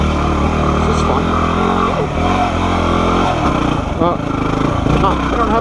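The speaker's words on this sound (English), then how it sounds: "This bike does wind out to the moon, being that it's a dual sport." Dual sport motorcycle engine revving loud and close, winding up and dropping through gears in a steady rough drone, with a rider's voice talking over it.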